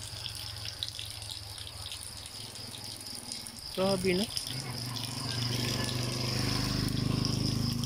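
Water from a mountain spring source flows and gushes steadily, growing louder toward the end, with hose-fed trickling and a brief spoken exclamation partway through.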